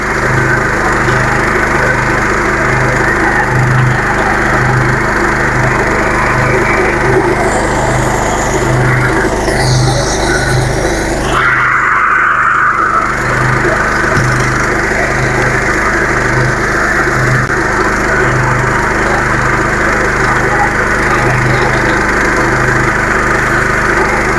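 A stubble mower's engine runs steadily at close range, a loud continuous drone with a pulsing low throb, briefly dipping and changing tone midway before settling back into its even chug.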